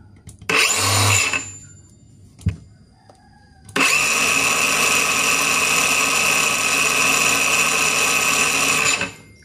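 An Allefix 5-inch circular saw gives a short burst of whirring, then a click, then a long high-pitched steady whine for about six seconds before cutting off, loud and close with no talk.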